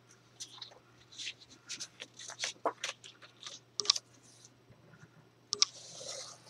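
A scoring tool draws across paper in short scratchy strokes, soft and close, interspersed with light clicks and taps in an otherwise quiet room.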